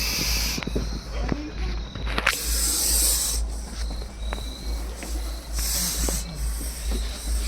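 A Russell's viper gives loud, drawn-out hissing in repeated bursts, close by, with faint rustles and a low hum underneath.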